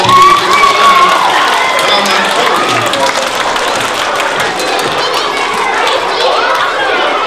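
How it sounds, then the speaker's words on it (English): A crowd of children applauding at a school fire safety assembly, loud continuous clapping mixed with excited shouts and chatter throughout. "Give yourselves a nice round of applause"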